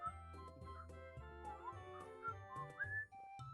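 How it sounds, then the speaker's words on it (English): Someone whistles a wavering, gliding tune close into a microphone, heard over a bed of sustained tones with no talking. "We heard the whistles."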